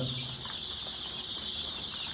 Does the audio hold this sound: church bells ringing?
no